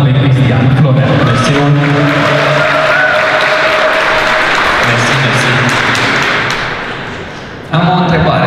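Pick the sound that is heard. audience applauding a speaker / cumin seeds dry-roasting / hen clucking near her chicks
audience applauding a speaker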